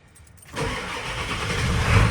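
A Ford OBS pickup truck engine cranks and catches after about half a second of quiet, then settles into a steady, close, loud idle.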